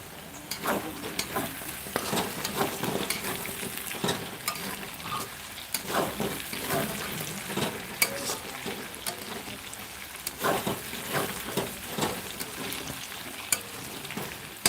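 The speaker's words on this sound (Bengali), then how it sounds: "এবার এর মধ্যে একটা টমেটো কুচি দিয়ে দেবো" Chopped tomato and chicken skin with legs fry in a pan, a steady close sizzle broken by repeated stirring scrapes and crackles throughout, with no talk.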